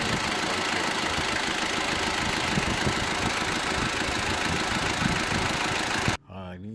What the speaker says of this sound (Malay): Kemudian kita start enjin.